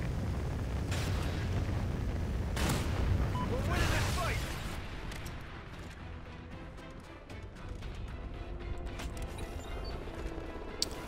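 A Trinity rocket strike lands in Call of Duty Ghosts, a loud rumbling blast with bursts of crackle in the opening seconds that fades into a lower, sustained wash of distant battlefield noise, with game voices mixed in.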